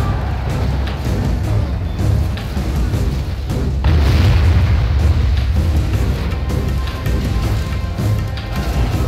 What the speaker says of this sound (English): Our opponent just hit his own men with some of his artillery